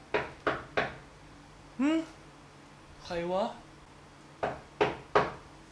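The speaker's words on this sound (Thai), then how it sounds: "ใครวะเคาะอยู่ได้เว้ยประตูไม่ใช่ทุเรียนเฮ้ย" Knocking on a door comes in two bursts of three sharp raps each, near and fairly loud, with a voice calling out between them.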